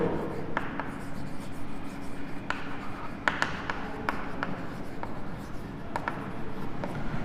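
Chalk or marker writing on a board during a math lesson on relations, a steady scratchy stroke sound with sharp taps at intervals against a continuous room hum, fairly close.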